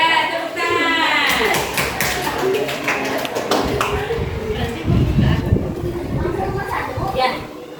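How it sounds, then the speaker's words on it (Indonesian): A classroom of students claps hands after a group presentation, a burst of close, quick claps lasting a few seconds, followed by shuffling, tapping and voices in the room. "Ya, tepuk tangan."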